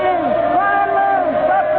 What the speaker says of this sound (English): The crowd, they're yelling something at...